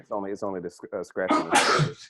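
One sharp sneeze bursts out during a casual conversation between men, with talking right before it.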